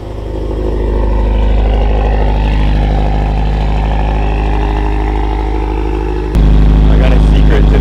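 A 2000 cc Subaru STI race car engine running on E85 cold-starts and settles into a loud, rough, throbbing idle close by, then jumps abruptly to a higher, heavier drone near the end.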